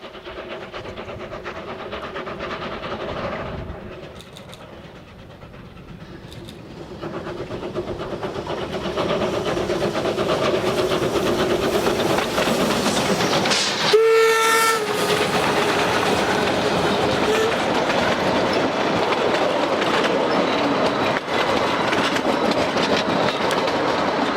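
A pair of 146-year-old steam locomotives climbs the Cumbres line in the distance, a steady rolling rumble with rail clatter, broken midway by one loud, clear whistle blast before the train noise resumes.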